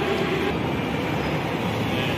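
Steady, loud rumble of a Delhi metro train running through a station, a continuous dense roar with no clear breaks and no talk.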